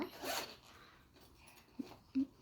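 A zipper is pulled shut on a school bag in one quick, rasping burst, followed by a couple of small clicks and knocks as the bag is handled.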